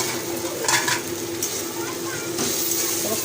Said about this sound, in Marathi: टोमॅटो चांगला लाल शिजला पाहिजे मस्तपैकी तेलामध्ये.